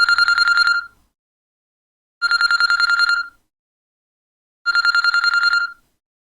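A telephone bell rings in three separate bursts, each about a second long with even pauses between them, loud and close with no one speaking.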